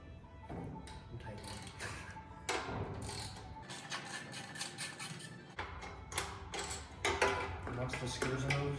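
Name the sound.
13mm socket ratchet removing small engine screws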